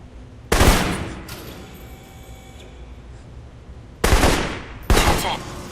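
Rifle fire in the spy action game Alpha Protocol: three loud, sharp shot bursts, one early and two close together near the end, each with a ringing tail and quiet room tone between them.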